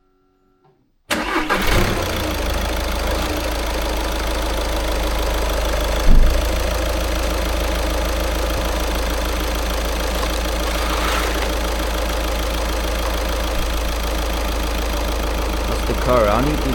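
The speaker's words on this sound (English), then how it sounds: "And now I'm gonna start the car" A car engine cranks and catches after a moment of silence, then settles into a steady, loud, close idle with a low rumble and faint ticking, a few small bumps in the running sound and no talk.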